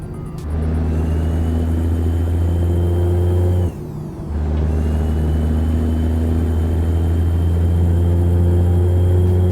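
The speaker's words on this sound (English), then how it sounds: "Once you get it up in the higher rev range, it will happily start pulling along like a train." Ford Aeromax truck engine in American Truck Simulator, a loud steady droning rev with strong low harmonics, briefly cutting out near the middle before picking back up and holding constant.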